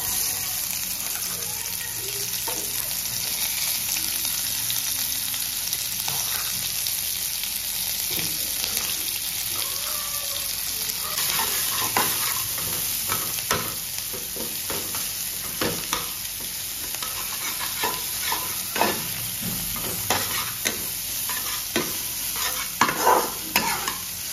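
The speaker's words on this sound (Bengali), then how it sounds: "এবার আমরা অ্যাড করে দিচ্ছি কাঁচা পেঁয়াজ" Raw onion frying in a pan gives a continuous sizzle, with repeated scraping and clinking strokes of a spoon stirring that grow busier and louder over time.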